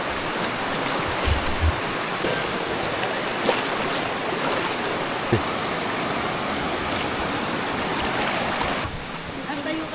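Steady rushing water of a river at a campsite in Real, Quezon, broad and continuous, with a few faint thumps and brief voices mixed underneath.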